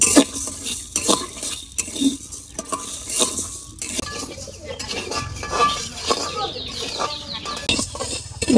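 Red lentils being dry-roasted in a wok and stirred with a metal utensil, producing repeated close scraping and clinking against the pan, with chickens clucking faintly in the background of a village kitchen.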